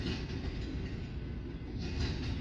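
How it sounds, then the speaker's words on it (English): A northbound BNSF double-stack freight train holds near a rail diamond at Fremont, Nebraska, its steady heavy rumble and rolling noise filling the whole stretch, loud and close, with no voices. "right behind me is the northbound BNSF stack train that'll be terminating here in Fremont"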